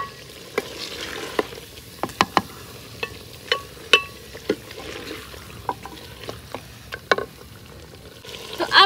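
Chicken frying in a pan with tomato going in for a desi-style murgh salan, a continuous soft sizzle broken by repeated sharp clacks and scrapes of a spoon stirring against the pan, close up and with no voices.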